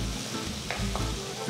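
Onions sauté in a pan for cabbage kootu, a steady close sizzle and fry with a soft stir or two, no talking.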